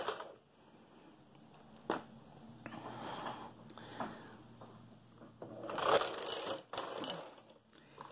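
A hand-cranked sock knitting machine works short rows, giving soft mechanical clicks and rattles with a few sharper knocks and a louder burst of clatter near the end, quiet and close with no speech.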